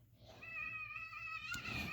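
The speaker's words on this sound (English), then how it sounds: "This is my cat." An adult house cat, a little blind and somewhat annoyed, lets out one drawn-out, close meow lasting over a second in a quiet room.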